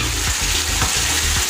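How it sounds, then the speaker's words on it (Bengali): Chopped capsicum frying in hot oil in a pan for a chili prawn dish, a loud, close, continuous sizzle with stirring scrapes. "এই সব কটা তেলে দিয়ে আমি ভাজছি"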